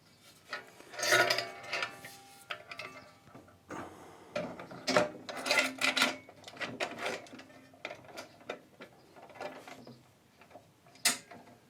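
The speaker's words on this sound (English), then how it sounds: "once you remove the fence and replace it like I just did there" A planer fence on a Record Power PT260 planer thicknesser being removed and refitted: scraping, rubbing metal slides and clunks in irregular bursts, with a sharp clack near the end, close by with no talking.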